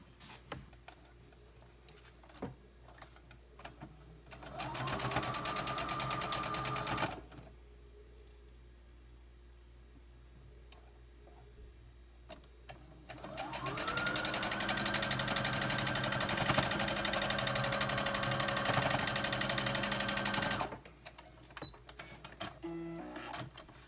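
A sewing machine stitches quilt block seams in two runs, a short burst and then a longer steady stretch, each running at an even, mechanical hum with quiet pauses between.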